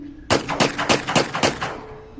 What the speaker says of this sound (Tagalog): sabi ni Flores, sabay bitaw ng sunod-sunod na putok